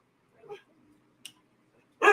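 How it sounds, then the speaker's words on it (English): A white dog gives a brief whimper, then a faint yip, followed by a sharp, loud bark at the end, with quiet stretches in between and no talk. "That's the white dog that you guys used to see in the background."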